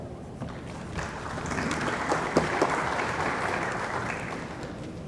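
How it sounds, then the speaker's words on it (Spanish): An audience at an administrative law course event breaks into steady, moderately loud applause that swells slightly and holds for several seconds in an indoor hall. "Les pido la recibamos con un fuerte aplauso."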